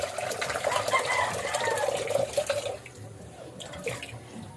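Steady running water from a tap splashes continuously, with a rushing, bubbling texture that eases slightly toward the end, close and moderately loud, while a rooster crows faintly in the background.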